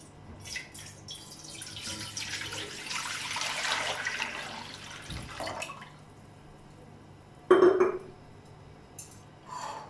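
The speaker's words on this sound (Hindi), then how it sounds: "आप पानी डालेंगे इसमें 1 लीटर।" Water splashes and pours in uneven bursts into an open pan, about one litre, then stops; a short clatter follows and a faint pour resumes near the end.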